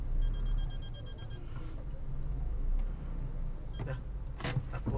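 A car pulls in to park, its engine idling low and close throughout, with a run of electronic beeps near the start and a few sharp clicks and clunks toward the end.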